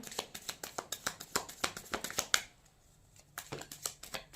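Tarot cards are shuffled by hand in a series of crisp riffling flicks and taps. The shuffling pauses briefly and then resumes, close up and moderately quiet.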